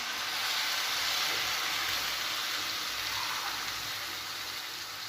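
Water being poured into rice in a pot for soya chunks pulao, a steady, close, hissing rush of liquid lasting several seconds without a break and with no talk.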